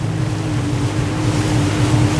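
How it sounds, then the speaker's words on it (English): Jet ski riding rough Atlantic Ocean waves off the North Carolina coast during Hurricane Ian, a steady loud engine drone mixed with rushing water and wind, continuous with no talk. "Look at me riding the wave on the jet ski."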